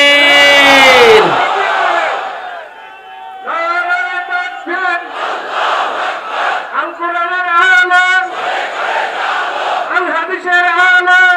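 A huge open-air crowd at a Bengali Islamic waz gathering roars back a chanted takbir response. One loud, ringing voice calls first, then massed voices answer in repeated surging waves that stay loud and dense to the end.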